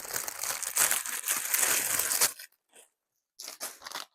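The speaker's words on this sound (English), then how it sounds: "let me put them back in the crinkling bag again" A crinkly plastic bag is handled up close, giving a dense two-second burst of loud crinkling and rustling, then a short silence followed by a few brief crinkles.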